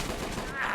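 Submachine gun fire in a World War II battle in Men of War: Assault Squad 2, a brief burst of rapid shots heard as one quick rattling volley, fairly faint.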